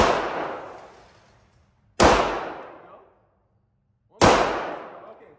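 Three loud, sharp real gunshots ring out at a shooting range in the USA, spaced about two seconds apart, each with a long echoing decay trailing off before the next shot.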